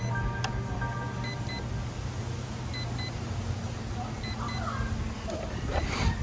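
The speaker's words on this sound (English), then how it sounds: "it's beeping or something" Broken Porsche 911 GT3 RSR RC drift car emitting short, faint electronic beeps in small repeated groups over steady background hum, with a voice talking nearby.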